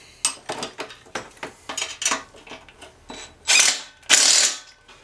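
Ratchet wrench clicking in short bursts as a bolt is tightened on a pressure washer, close and moderately loud, with two longer ratcheting runs near the end; no talking.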